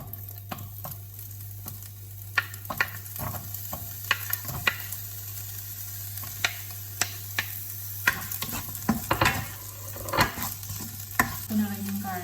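Onion fries in oil in a pan while being stirred. A steady low sizzle runs under repeated small scraping and clicking sounds from the stirring, close and fairly quiet.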